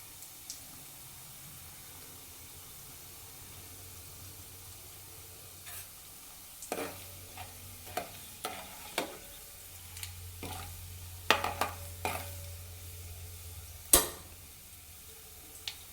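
Quiet sizzle of tempering spices, cumin and mustard seeds, frying in oil, joined midway by scattered scraping stirs and clicks from a utensil in the pan.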